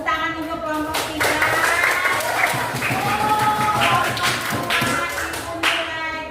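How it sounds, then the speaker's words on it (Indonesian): Clapping for a student group in a classroom coaching session, a scattered patter of hands running steadily throughout, with voices talking and calling out over it. "Tepuk tangan untuk kelompok 3."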